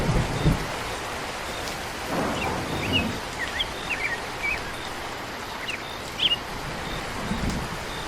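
Heavy rain pours steadily in a cartoon scene, a dense continuous hiss with low rumbles of thunder underneath and a few faint bird chirps scattered through it.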